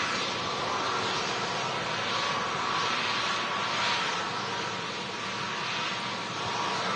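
Turkish Airlines airliner taxiing past nearby, a steady broad jet engine roar that swells and eases slightly, with no talk.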